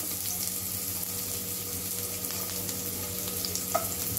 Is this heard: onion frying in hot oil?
yes